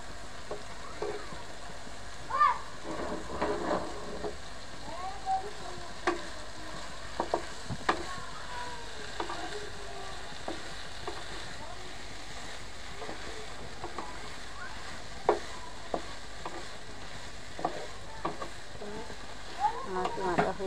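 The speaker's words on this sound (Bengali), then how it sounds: "আমার কিমাটা হয়ে আসছে, আমি একটু পরে নামিয়ে নেব।" Beef mince with coriander leaves cooks in a pan with a soft, steady sizzle, punctuated by intermittent spoon scrapes and taps as it is stirred.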